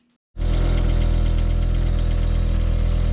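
An Audi Coupe engine with an exhaust leak turns over and settles into a loud, steady idle with a rough, rapid ticking puff layered over the low rumble.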